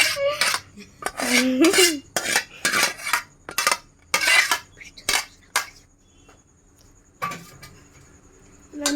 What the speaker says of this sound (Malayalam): മാഗി ഇങ്ങനെ ഇളക്കി കൊടുക്കാം